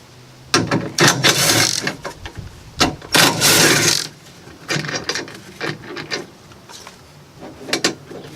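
A ratchet fitted with a 10 mm socket removes a front-door dampener, giving loud, irregular bursts of close metallic clicking with brief gaps between the cranks.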